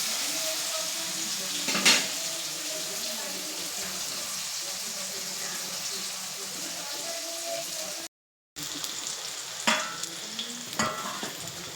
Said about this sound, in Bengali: পেঁয়াজটা এইভাবে নেড়ে চেড়ে দু মিনিট ভেজে দিচ্ছি